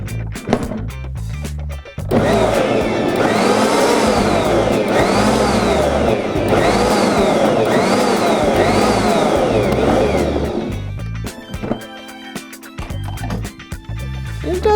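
A Bosch Universal Plus stand mixer, model MUM6N10UC, runs loud and close with its dough hook, a steady motor drone with a cyclic wavering pulse, then shuts off into a few clicks and handling noises.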